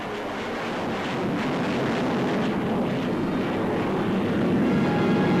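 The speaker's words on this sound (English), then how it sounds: "Now the Vulcan, another of Britain's newest bombers." A Vulcan jet bomber passes over the RAF Coronation Review with a broad, continuous engine roar that grows slightly louder as it goes, with no voices over it.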